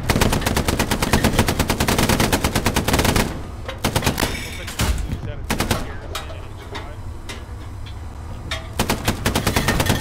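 Rapid machine gun suppressing fire in the Hell Let Loose shooter game, loud sustained bursts for several seconds, then scattered single shots and a pause before another long burst.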